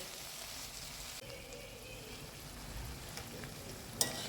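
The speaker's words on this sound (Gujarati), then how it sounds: "વચ્ચે વચ્ચે આ રીતે થોડી વાર ચમચો ફેરવતું રહેવાનું" Potatoes boil and bubble in a pot for a fasting khichdi, a faint steady simmer with a soft scrape of a spoon stirring and one light clink near the end.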